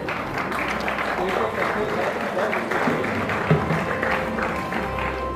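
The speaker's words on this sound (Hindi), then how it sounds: "इन तमाम लोगों की जो तालियों की गड़गड़ाहट है वो आप लोगों के लिए है।" Applause from an award-ceremony audience, a steady, dense crackle of many hands clapping that keeps going the whole time, with someone speaking over it.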